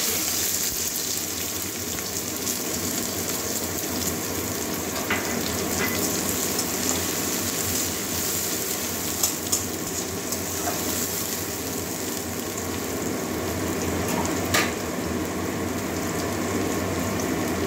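Chopped onion sizzles in hot oil in a pan for a sweet potato and soya chunk curry, a steady, close, continuous crackling hiss with occasional small pops and no talking.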